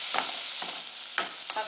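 Onion fries in a pan with a steady soft sizzle, broken by a few short scraping stirs of a utensil, close and moderately quiet with no voices.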